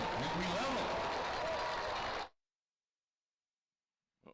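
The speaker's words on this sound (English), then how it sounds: "let's give these young people a big round of applause" Dense applause and crowd noise at a high school football game halftime show for about two seconds, then it cuts off abruptly into silence.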